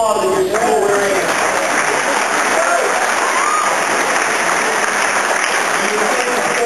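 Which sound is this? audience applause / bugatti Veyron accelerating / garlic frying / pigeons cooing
audience applause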